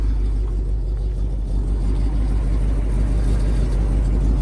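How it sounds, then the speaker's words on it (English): 1958 Pontiac Bonneville Sport Coupe with Tri-Power running steadily after starting, a close, deep, even idle rumble with a low throb throughout and no talking over it. "Car starts right up."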